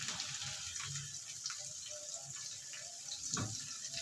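Water pouring into a cooking pot on a home kitchen stove while preparing lunch, a steady close splashing stream running throughout with small bubbling bursts.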